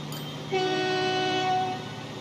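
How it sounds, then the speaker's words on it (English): Horn of a grain train in the Transport Fever 2 video game: one loud, steady blast lasting about a second, heard alone over a low background rumble. "This train is going to be the van grain train."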